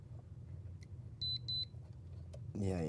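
An electric meter gives two short, high electronic beeps in quick succession over a low room rumble, and a voice begins talking right after.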